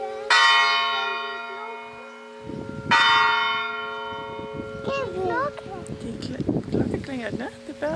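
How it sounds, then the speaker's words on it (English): A church bell rings in an old Tuscan town, two loud resonant strikes with long ringing decays, followed by children and other people talking nearby. "The bell's ringing."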